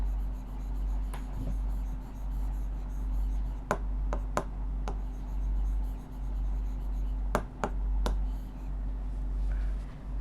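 A pen writing out a maths equation, sparse quiet scratches and sharp ticks of the tip against a steady low hum, close, no talking.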